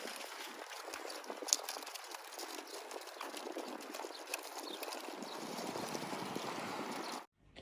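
A small mare walks nearby in Germany; her hooves make soft, faint, irregular clopping over a quiet, steady background hiss.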